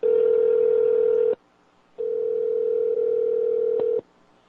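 A telephone ringback or dial tone plays while calling a cell phone: two steady, loud, close tones, the first about 1.3 seconds and the second about 2 seconds, separated by a short silence.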